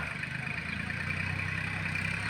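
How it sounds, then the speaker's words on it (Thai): A tractor ploughing a rice field, its engine giving a steady, continuous low drone that stays even in level throughout, with no pauses or revving. "ได้เวลาของรถไถนะฮะ มาไถเพื่อที่จะ"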